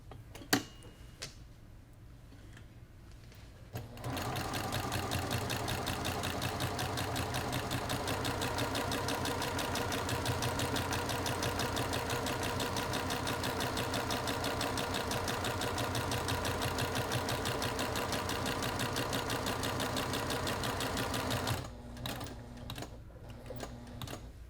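A home sewing machine stitches the binding on a placemat, running in one steady, even whir for about eighteen seconds between quieter start and stop moments. No one talks.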